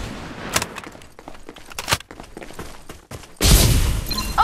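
Gunfire in the video game Farlight 84, bursts of sharp shots spread across a few seconds, capped by a louder, dense blast of sound near the end.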